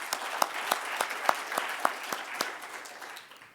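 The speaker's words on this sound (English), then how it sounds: "A round of applause to Andile." Light applause from a small group: scattered, distinct claps in an uneven rhythm that gradually thin out and fade.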